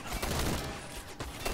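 Video game gunfire in Call to Arms crackles as a dense, distant fusillade from several directions, a continuous rattle with a few sharper bursts, faint overall.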